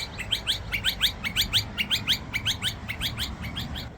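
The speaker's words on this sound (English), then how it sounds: "That bird did not like I was there." A small bird chirps rapidly and repeatedly near a football stadium in Adelaide, bright, close call notes in a steady, insistent rhythm over faint low background rumble.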